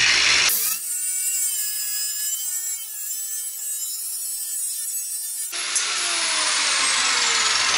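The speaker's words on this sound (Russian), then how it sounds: "Давай скорее пили." Saw cutting through the muffler on a Kia car, a harsh high-pitched grinding rasp that runs steadily for several seconds, then shifts to a broader scraping hiss, close and loud with no talking.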